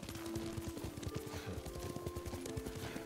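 Rapid clip-clop hoofbeats of a horse being ridden in the samurai video game Ghost of Tsushima, a steady galloping rhythm close up with a faint tonal hum in the background.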